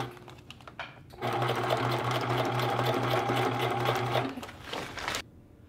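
A sewing machine runs a steady burst of rapid, rhythmic stitching through fabric for a few seconds, then pauses and makes a brief back-stitch. The sound is close and clear, with no talking.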